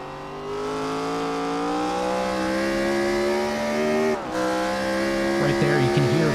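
A Gen 4 NASCAR Cup car engine in iRacing at Montreal drones at high revs, pitch rising gradually, a brief lift off the throttle, then roaring on again as a commentator talks.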